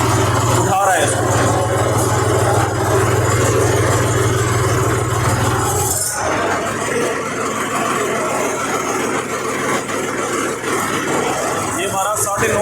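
A tractor engine idles steadily at low revs while its 9.5-foot front loader lifts, a constant low mechanical drone with a brief surge partway through.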